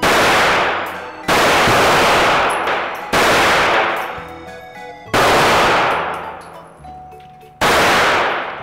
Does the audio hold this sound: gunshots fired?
yes